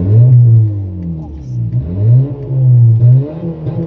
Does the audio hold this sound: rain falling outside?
no